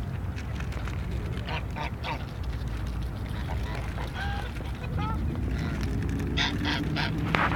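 Geese honking at a lake where ducks are being fed: scattered honks of varying pitch rise over a steady outdoor background, some nearer and some farther off, with voices talking throughout.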